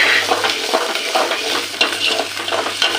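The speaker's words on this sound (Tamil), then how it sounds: "எல்லாம் சேர்த்துட்டு நல்லா வதக்கி விடுங்க நல்லா பொன்னிறமாக வரட்டும்" Green turkey berry curry ingredients sauté in a pan, a steady close sizzle broken by repeated scraping stirs and light clinks of a spoon against the metal, with no talking.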